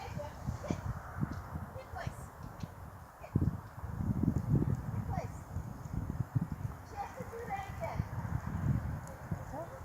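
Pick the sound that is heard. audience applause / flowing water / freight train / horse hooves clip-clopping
horse hooves clip-clopping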